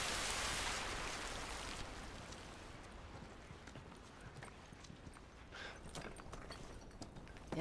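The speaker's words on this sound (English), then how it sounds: "At least we're out of the rain." Steady rain falls in The Last of Us Remastered video game, a dense wash of hiss that is strongest at first and then settles slightly quieter with scattered patter and drips, no speech.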